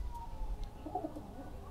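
Soft cooing of a blorok pigeon murmurs faintly in the distance over low outdoor rumble.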